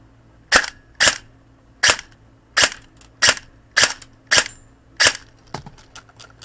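G&G Top Tech 416 airsoft rifle firing 0.20 gram Elite Force BBs through a chronograph, about ten sharp single shots spaced roughly half a second apart, loud and close with no talking.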